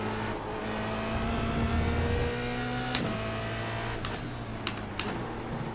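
A Formula Renault race car engine in the iRacing sim at Spa-Francorchamps drones steadily at low volume, its pitch shifting slightly, while sharp keyboard-like clicks tap intermittently over it.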